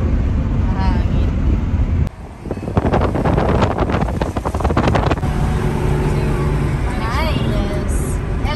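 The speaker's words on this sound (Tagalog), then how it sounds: "Mahangin." Strong wind in Tbilisi, Georgia buffets the microphone in a steady roar, with a burst of rushing, gusty noise in the middle.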